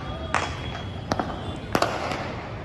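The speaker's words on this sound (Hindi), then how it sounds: "पटाखे की आवाज़ आप लोगों को सुनाई दे रही होगी।" Scattered firecracker pops and cracks sound at a distance over a city of tall buildings at night, a few sharp bangs spread over a low background din.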